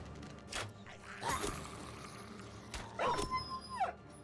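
A dog in the Battle Brothers game yips and whimpers, short sharp cries followed by a drawn-out whine, fairly faint and spaced apart.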